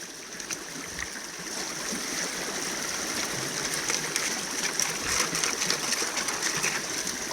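Creek water rushing through an 8-inch gold sluice with punch plate and grizzly at Sailors Creek, Daylesford: a steady, broad wash of flowing water with faint splashes, continuous and fairly close.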